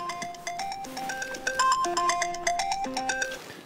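A mobile phone ringtone plays a bright, melodic electronic tune of quick chiming notes, loud and close, heard alone for several seconds.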